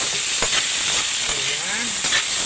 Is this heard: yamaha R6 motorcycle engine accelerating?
no